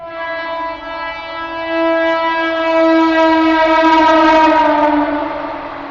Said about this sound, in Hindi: ट्रेन आ रही